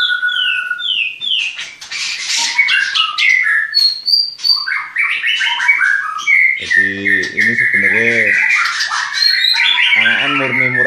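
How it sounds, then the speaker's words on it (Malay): Oriental magpie-robin (murai batu) chicks in a breeding cage chirp and whistle in loud, rapid, repeated calls close by, while someone speaks briefly over them. "Oh, itu anakan murni, anakan murai batu."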